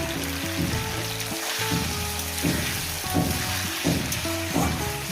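Green beans seasoned with a little turmeric fry in a pan with a steady, fairly loud sizzle that runs the whole time, rising and falling slightly as they are stirred.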